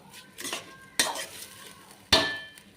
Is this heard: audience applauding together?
no